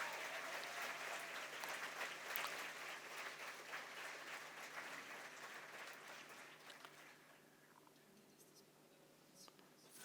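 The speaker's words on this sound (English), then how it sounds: "I would also like to ask for a big round of applause for Eva Maria Holzleitner" Audience at a feminism and democracy symposium claps in a sustained, fairly soft round of applause that thins out and fades after about seven seconds, leaving quiet room noise and a few stray sounds.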